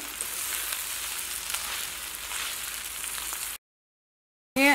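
Greens and macaroni being mixed in a hot pan, giving a steady close sizzle and frying crackle for a few seconds, then a brief silence before a short burst of sound returns.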